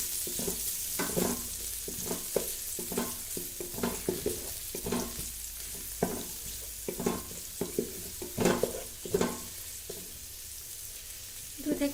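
Chopped onions frying in a pan for ilish polao, a soft continuous sizzle broken by repeated stirring scrapes and clatters at an uneven rhythm, close by, with faint background noise.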